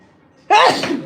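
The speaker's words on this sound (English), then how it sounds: "Whew, I'm about to sneeze." A single sharp sneeze bursts out loudly after a brief quiet moment, close to the microphone.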